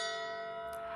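A hand bell rung during a livestream, a sustained metallic ring with bright lingering overtones held for the full second, fairly quiet and without talk.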